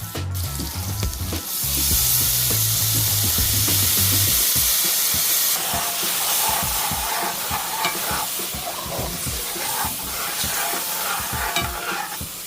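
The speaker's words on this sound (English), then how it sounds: "put it on low heat, cap it, and then just let it simmer all the way up until 9" Steak in gravy simmers and sizzles in a pan over low heat, with a steady frying hiss and a bright steam tone in the first seconds, then crackling bubbles running on without any voice.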